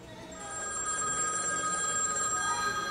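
Telephone ringing with a steady electronic trill that starts softly and quickly rises to a constant, fairly loud tone, continuing without pause for the rest of the clip.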